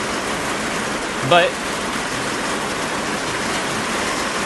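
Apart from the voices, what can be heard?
loud rain falling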